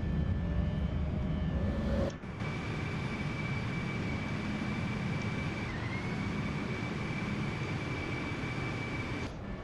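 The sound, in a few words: airplane with landing gear retracting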